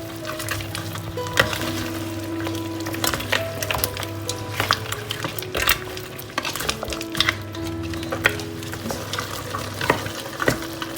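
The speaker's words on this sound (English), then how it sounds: "I will then add in the little tomato paste I had left into my soup and then mix it together." A spoon stirs tomato paste into a pot of Ghanaian peanut butter soup (nkatenkwan). Steady scraping and clinking against the pot runs over a constant simmering sizzle, close and moderately loud, with no talking.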